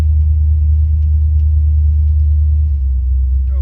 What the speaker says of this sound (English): A little bit of a sputter.